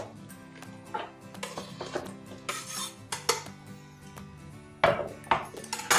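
Diced tomatoes tipped into a cooking pot, giving scattered clinks and knocks of utensil against metal with a few louder clatters near the end, no voices.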